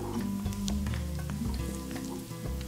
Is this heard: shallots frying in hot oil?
yes